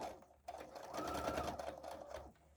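A sewing machine starts up and stitches fabric for a handmade Easter basket, running slower through the thicker seams. Its steady close whir lasts about two seconds before stopping.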